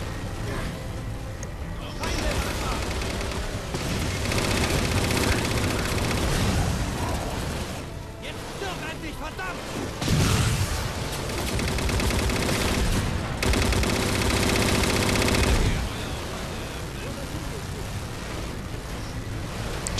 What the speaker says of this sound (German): Lustig, wie sie immer wieder mit auf die Leiche schießen.